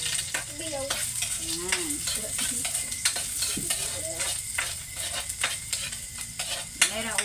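Garlic sizzling in hot oil in a pan, a steady close frying hiss with repeated scraping stirs of a utensil, and a voice speaking briefly over it.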